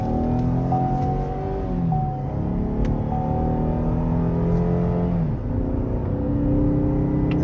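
A 2013 Cadillac SRX in sport mode with traction control off, its engine droning loud and steady from inside the cabin, with rising and falling tones as it revs and shifts through gears.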